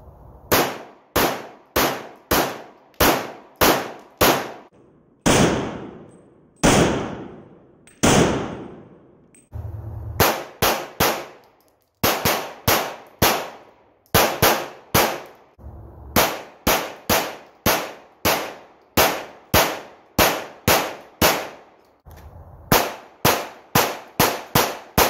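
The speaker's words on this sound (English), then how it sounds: "I also have some range footage of this gun, so I will throw that in now." A CZ P10 pistol fires at a shooting range in loud, sharp shots, grouped in rapid strings of several rounds with short pauses between strings, repeated over about twenty-five seconds with no talk.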